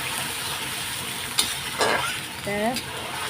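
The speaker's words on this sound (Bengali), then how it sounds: "এটা একটু কষিয়ে নিই" Onions sauté in a pan under constant stirring, a dense close sizzle with a few sharp scrapes and clatters, while a voice briefly sounds in the background.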